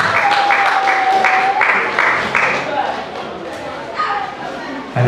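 A crowd at a church gathering claps in short rhythmic bursts, loud and close, while voices carry over and between the clapping.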